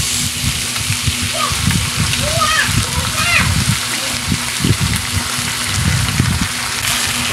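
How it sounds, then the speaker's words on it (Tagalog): Tomato sauce pours into a pan of chicken liver, a wet, sloshing splatter over a steady cooking hiss, with faint voices in the background. "Nilagay na po natin ang ating tomato sauce."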